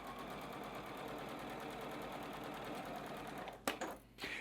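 A sewing machine runs steadily, stitching a seam on a quilt block, its close, even whir holding for several seconds before stopping, followed by a few brief handling noises.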